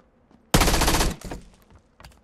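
In PUBG, one burst of rapid automatic gunfire rips out loud and close for about half a second, trails into a quieter echoing tail, and ends with a faint second pop.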